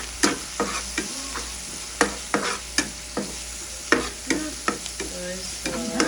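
Mushrooms, onion and garlic with black pepper, chili powder and basil sizzling in a pan, stirred with repeated sharp scraping strokes over a steady fry, soy sauce being added, close up and without talk.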